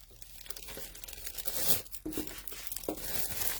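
Close, continuous crinkling and rustling of a plastic bag being handled, with a couple of sharper crackles, no talking.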